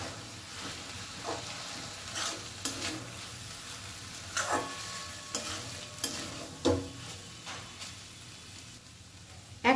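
A banana flower mixture with a sprinkle of dry flour and a few drops of lemon juice is stirred in a gently sizzling pan, repeated scraping strokes over a low frying hiss.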